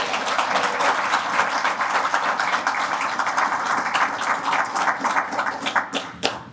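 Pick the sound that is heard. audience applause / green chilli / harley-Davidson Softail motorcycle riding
audience applause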